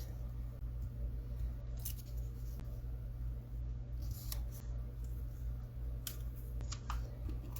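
Scissors snip through a fabric strip to make it thinner, a few quiet cuts spaced out over a low steady background hum.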